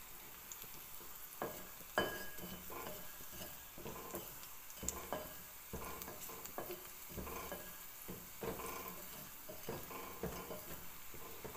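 Spoon stirring sinigang na tambakol, a tuna sour soup, in a small pot: repeated scraping strokes over a steady low sizzle, close and moderately loud, with no talking.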